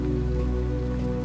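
Rain falls steadily on a surface, a dense even hiss with no breaks, mixed with a low tonal hum underneath.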